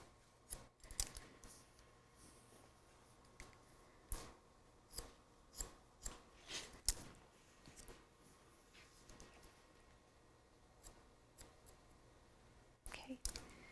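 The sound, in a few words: scissors cutting hair for a classic bob haircut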